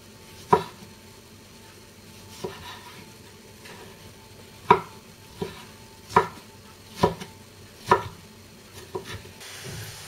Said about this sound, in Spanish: El tomate también lo vamos a pelar y lo picaremos para añadirlo